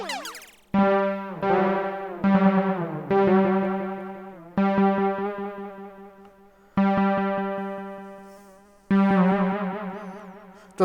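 Roland AIRA System-1 synthesizer notes played with the delay raised and reverb lowered, each struck note trailing into rhythmic repeating echoes that slowly decay, loud and close with no talk.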